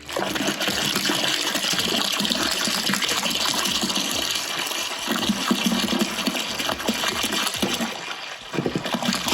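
A gallon of spring water pours steadily into a beer-brewing pot for several seconds, a continuous splashing gush with a slight hollow tone, with no voices.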